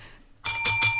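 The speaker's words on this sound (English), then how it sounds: "ring the bell, because this challenge is going to be finished" A bicycle-style bell rings sharply after near silence, with three quick bright strikes close and loud that shimmer into a ringing tail.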